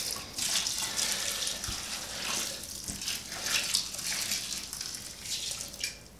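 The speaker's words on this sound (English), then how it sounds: "I begin to pour off the liquid" Rice water whey is poured steadily from a container onto wheat bran for a bokashi mix, a continuous soft trickling and splashing of liquid heard close up with no talking.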